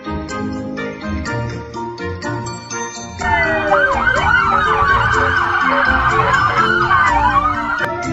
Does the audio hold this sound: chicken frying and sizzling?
no